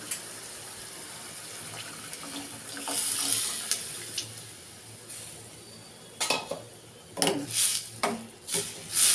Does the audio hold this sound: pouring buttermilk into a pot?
yes